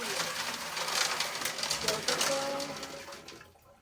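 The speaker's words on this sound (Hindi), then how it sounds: "देखा गाइस, पानी अंदर चला गया है।" Water splashes and pours steadily into a fish container at close range for a few seconds before fading out, with broadband hissing rushes throughout.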